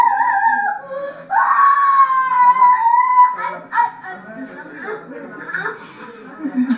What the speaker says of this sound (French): les gens sont là pour crier Seigneur